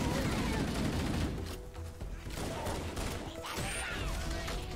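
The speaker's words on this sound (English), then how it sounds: "The sound of an alien grenade going off." Alien grenade exploding in Halo: Combat Evolved, a dense burst of crackling blasts amid continuous loud battle noise, with a brief whistling streak near the end and no clear voices.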